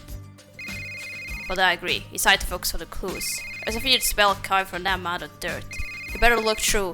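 Phone ringing in the Criminal Case hidden-object detective game, three repeated electronic ring bursts sounding under close, steady spoken narration.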